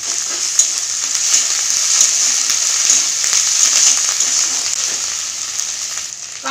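Onion frying with ginger paste in a pan, a loud, close, continuous sizzle with bright crackle and occasional stirring scrapes, steady throughout with no voices.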